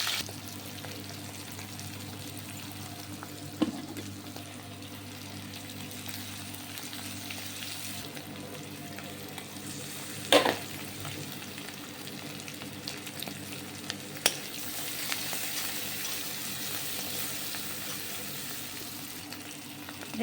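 Cumin seeds and two bay leaves sizzle quietly in hot refined oil in a pan, a soft steady frying hiss with a few faint clinks and pops scattered throughout.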